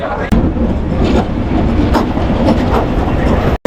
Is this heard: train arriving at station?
yes